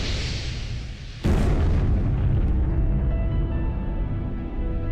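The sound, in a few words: explosion of impact forming a crater on the Moon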